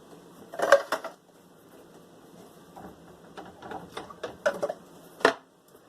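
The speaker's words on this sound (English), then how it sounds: "So I'm just going to dump them in my pan, juice and all." Four cans of peaches with their juice tipped into a cooking pan for a peach cobbler, heard as clanking can-and-pan knocks and thuds in scattered bursts, close by, without speech.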